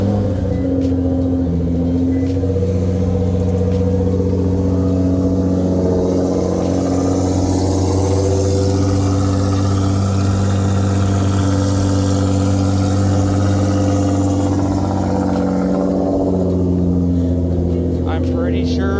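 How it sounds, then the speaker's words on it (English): A Nissan R35 GT-R sits at a loud, steady idle for the whole stretch, its deep rumble holding constant with slight wavering toward the end. "I'm pretty sure that people in town can hear this thing idling."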